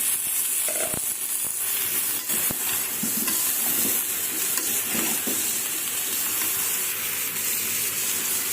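Eggplant pieces fry in spiced masala in a pan, a steady close sizzle broken by scraping stirs and a few sharp clacks of the utensil against the pan, with no voices.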